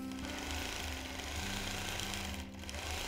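A long-arm quilting machine stitching through fabric gives a steady, loud mechanical drone with a fast, even needle rhythm that runs unbroken for the whole stretch, with no voices.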